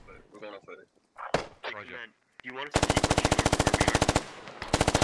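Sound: gunfire in the video game Arma (SquadOps operation)

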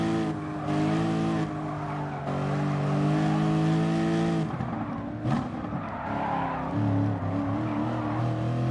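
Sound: race car engine driving in a racing video game

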